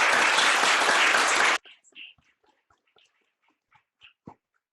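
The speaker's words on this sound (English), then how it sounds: "I'd like to give a round of applause for Harley." Warm audience applause for a speaker, Harley Eagle, after a talk on cultural safety and systemic racism; dense clapping stops abruptly after about a second and a half, leaving a quiet room with a few faint scattered noises.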